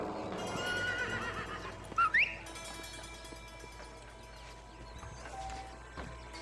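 Horse in the Red Dead Redemption video game whinnies sharply once, with a few soft hoof clip-clops and quiet ambient game sounds around it.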